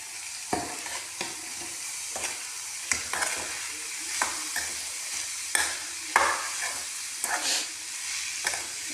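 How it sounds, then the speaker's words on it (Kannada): Shredded cabbage fries in a pan under a soft, constant sizzle, broken by a regular series of scraping knocks from a spatula stirring it, close by with no voices. "ಇದು ಚಲೋ ತಂಗ ಫ್ರೈ ಮಾಡ್ಕೋಬೇಕು ನೋಡಿರಿ"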